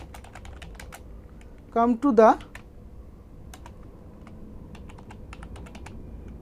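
Keys on a computer keyboard click in a sparse, irregular series of light, close taps, with a short burst of talking near the start over a faint background hum.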